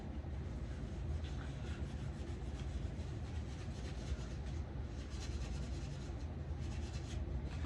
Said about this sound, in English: polish it down with some 0 grit steel wool